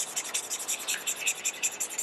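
Marker strokes rubbing across paper as an area is colored in with Stampin' Blends alcohol markers, a soft, rapid back-and-forth scratching in a steady rhythm, close and fairly quiet with no voices.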